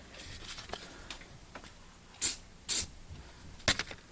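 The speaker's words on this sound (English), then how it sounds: "I'm just going to spray into my little plate here" Spray paint bursts into a small plate in three short hissing puffs, quiet and close, over faint background noise.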